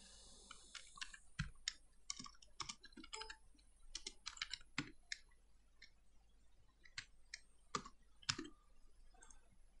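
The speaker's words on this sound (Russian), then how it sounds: "Просто набираем необходимый нам код." Someone types code on a computer keyboard in quick, irregular bursts of crisp key clicks, close and fairly quiet, with brief pauses between runs and no talking.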